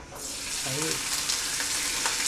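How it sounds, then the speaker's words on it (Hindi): Onions fry in fully heated oil in a pan, giving a loud, steady, close sizzle that runs without pause, with a brief low stir or scrape early on. "अभी इसके अंदर प्याज मैंने वो भून दिए हैं"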